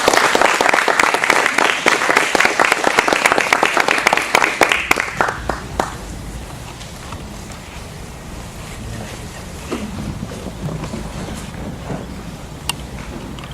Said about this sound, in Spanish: valga las palmas por este libro